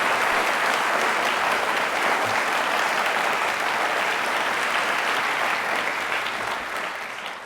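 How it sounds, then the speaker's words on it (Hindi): Studio audience at a televised quiz show breaking into loud, dense applause, a continuous wall of clapping that starts at full strength and slowly fades toward the end. "कम ऑन, तालियां जोरदार एक बार।"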